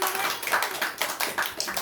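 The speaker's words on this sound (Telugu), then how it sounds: "క్లాప్స్ కొట్టండి" A group of children clapping together in quick, uneven bursts, fairly close, with a faint voice or two in the background.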